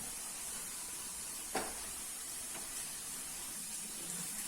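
Diced pepper and carrot fry in a pan, giving a steady, quiet sizzling hiss throughout, with a soft clink or two partway through.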